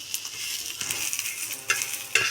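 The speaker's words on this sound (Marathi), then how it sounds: "आलं, लसूण, जिरं, धणे, आपल्याला गरम मसाला हा ह्याच्यावरतीच आपण परतून घेणार आहोत" Ginger, garlic, cumin, coriander and garam masala being sautéed in a pan for a jackfruit curry: soft frying hiss with a spoon stirring and scraping, two sharper clinks near the end, close and without speech.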